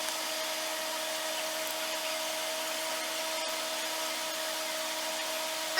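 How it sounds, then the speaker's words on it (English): A 3D printer lays down its first raft layer in translucent ABS, giving off a faint, steady mechanical whir with a thin tonal whine that holds evenly throughout. "Right now it's printing the first layer, which is going to be the first raft layer."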